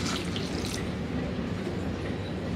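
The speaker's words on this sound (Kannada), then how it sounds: "ಈಗ ಇದಕ್ಕೆ ನೀರು ಹಾಕೊಳ್ಳೋಣ." Water pours into a pot of simple bele saaru, a lentil sambar spiced with turmeric and sambar powder, making a dense, steady rush of liquid throughout the brief moment.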